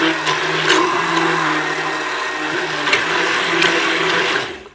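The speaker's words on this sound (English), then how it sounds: "We're gonna stick blend right now" Stick blender whirring steadily through vegan soap batter, a continuous close motor drone with faint scraping against the container, no talking.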